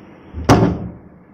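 A door at home is pushed shut with a single sharp, loud thud, followed by quiet with no distinct latch or lock click standing out.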